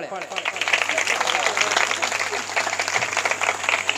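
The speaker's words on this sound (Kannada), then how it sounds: "ಜೋರಾದ ಚಪ್ಪಾಳೆ" Loud applause from a crowd at a felicitation ceremony where a speaker is honoured with a shawl and garland, a sustained dense patter of many hands with a voice talking over it.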